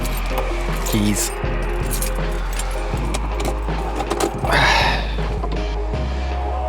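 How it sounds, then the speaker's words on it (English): Car keys for a newly bought Mercedes jingle and clink in bursts close by, over a constant low hum from the surroundings. "Keys."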